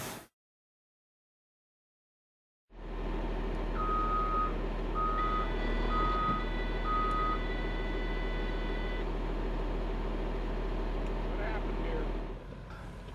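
Reversing beeps from a modern road grader working on Highway 27 east of Bend, a steady series of evenly spaced tones over the loud, continuous rumble of heavy diesel machinery nearby.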